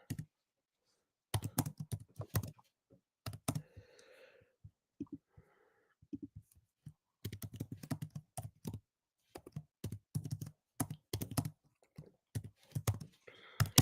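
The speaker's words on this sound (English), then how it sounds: "I'm just getting these typed in" Typing on a computer keyboard, close and clear, in quick clusters of keystrokes separated by short pauses, with a faint breath between bursts.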